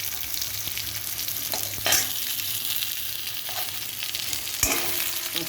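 Potatoes frying on high heat give a steady close sizzle and crackle, with a couple of sharper scraping stirs cutting through.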